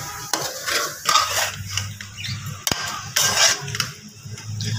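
Spoon stirring a potato filling with green coriander in a metal pot, scraping and clinking in a steady close rhythm with a few sharper knocks against the pan, no talk.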